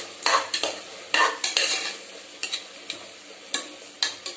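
Curry leaves and green chillies sautéing in a pan with tomatoes for tomato rice, a soft sizzle broken by repeated clinks and scrapes of a spoon stirring against the metal.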